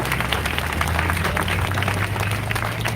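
Crowd at an outdoor Boston protest rally over police brutality, applauding loudly and continuously with dense, sustained clapping and no break.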